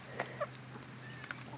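A few faint, scattered clucks from backyard hens pecking at eggs fed back to them, quiet and sparse over a low steady background hum.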